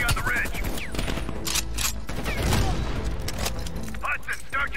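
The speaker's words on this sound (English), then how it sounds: "Heavy MG on the ridge!" Heavy machine gun fire rattles through a battle scene in Call of Duty: Black Ops Cold War, a dense, continuous barrage with booms and cracks mixed in while voices shout over it.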